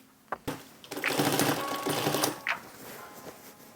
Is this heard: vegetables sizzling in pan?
no